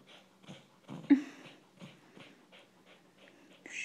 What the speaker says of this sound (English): Is he whining? It sounds like whining.